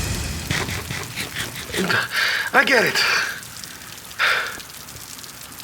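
Steady rain hiss falls throughout in Minecraft, a soft broadband wash running under a man's speech and sighs, near and continuous.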